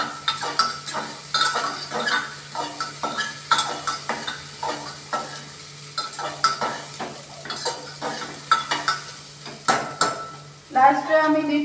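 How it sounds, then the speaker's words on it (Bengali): Onions are stirred in hot oil in a pot, with a steady series of rhythmic utensil scrapes and clinks over a soft sizzle, ending in a louder burst of frying. "এগুলো দেওয়ার পর আমি আবার একটু নাড়াচাড়া করবো তেলের মধ্যে।"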